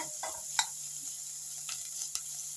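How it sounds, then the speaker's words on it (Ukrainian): Steady low sizzle of onion and carrot frying in oil in a pan, with a few sharp crackles and a faint constant hum underneath; no talking. "Смажиться"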